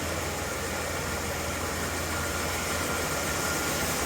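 A 1987 Dodge Dakota engine idles steadily just after its first start, a constant low rumble with broadband hiss that stays unchanged throughout, with no talking.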